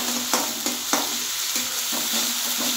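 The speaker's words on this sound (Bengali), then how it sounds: "মশলাটা একটু কষিয়ে নেব আগে প্রথমে, এই আদা পেঁয়াজ রসুনটা।" Ginger, onion and garlic masala frying in a pan for a taro-leaf dish with fish head, with a steady close sizzle and a spoon scraping and tapping at regular intervals.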